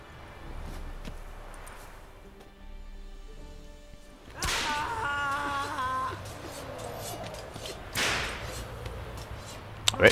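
Whip lashes in The Witcher 3 role-playing game: two sharp cracks a few seconds apart against a quiet in-game background, with voices murmuring between them.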